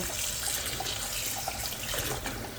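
Water splashing and trickling steadily as soaked small grapes are lifted out to be washed, a close, continuous running-water sound with light drips.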